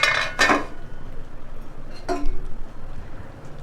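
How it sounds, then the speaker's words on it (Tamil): An egg being turned over in a pan for a Tamil-style egg gravy gives two quick metallic scrapes and clinks of a utensil against the pan at the start, then a single softer clink a moment later, close by with no talking. "இப்போ நம்ம இந்த முட்டையை பெரட்டி வச்சிடலாம்."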